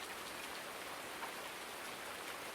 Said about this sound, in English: Typical British weather. Summer. It's raining.